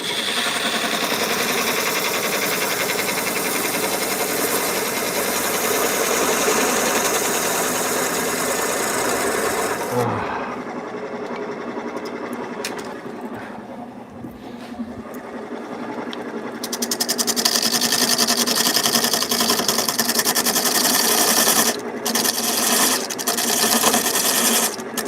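Wood lathe spinning a hollow form, a steady loud mechanical whir with a brief dip and quieter stretch midway before the full drone returns, broken by a few short cutting knocks near the end.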